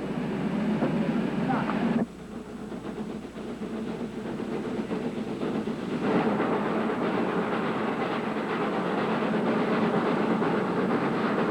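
A mountain railway train runs steadily on the climb past a tea plantation and viaduct toward Coonoor, a continuous loud rumble that dips briefly before swelling again.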